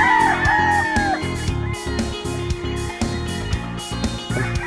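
A young Gilmore game rooster crows loudly and up close on a farm in the morning. A rhythmic mechanical chugging and tapping continues underneath the whole time.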